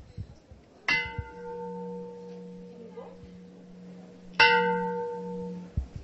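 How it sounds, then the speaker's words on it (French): A designer table struck like a bell at a Paris design fair gives two clear, ringing metallic tones with long sustaining overtones, each strike decaying slowly, a soft hum and faint movement between them. "essa é uma mesa, mas traz essa sensação musical que é possível ter com um sino"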